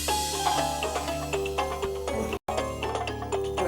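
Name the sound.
mobile phone ringtone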